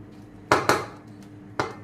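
A metal spoon clanks against a kadai while minced mutton and onion are mixed, three sharp close knocks, two quick ones and then a third after a pause.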